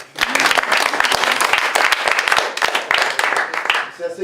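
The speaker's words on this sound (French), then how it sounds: "Sophie, on applaudit Sophie." Audience applause, a loud and steady mass of hand claps from a crowd that runs nearly the whole time before tapering off at the end.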